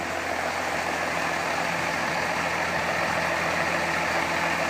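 A 1927 Ford rat rod fitted with a diesel engine idles steadily and close by, a dense, even rumble that holds at the same level throughout with no voices.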